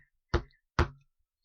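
Two sharp, close knocks on a door, about half a second apart, in otherwise near silence.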